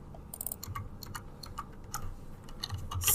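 Fingers tap out a short burst of keystrokes on a computer keyboard while entering HTML code, producing quick, uneven clicks that stay close and fairly quiet, with no voices.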